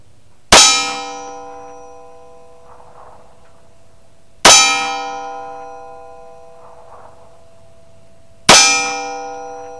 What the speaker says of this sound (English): I'll shoot at the top dot with this, and then with the Astra, I'll shoot at the bottom dot.